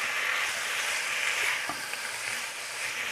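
Ingredients for Vietnamese bò bún stir-fry in a hot pan, a continuous close hiss of sizzling oil with faint scraping as the food is moved around, no talk.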